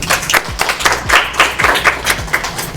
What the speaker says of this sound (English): Y'all clap it up for that